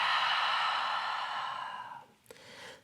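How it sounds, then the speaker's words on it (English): One long, slow breath out during a yin yoga practice, a soft airy exhale that fades over two seconds, then a quieter gap and the start of the next breath in, close and alone. "Take a full breath in and a full breath out."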